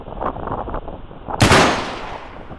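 A single loud M14 rifle shot cracks out after a stretch of low outdoor wind and handling noise, then rings off and decays over about a second.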